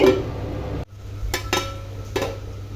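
A lid goes onto a cooking pot of Godavari-style coconut rice with a single clatter, then a few lighter metallic knocks and scrapes follow over a steady low kitchen hum.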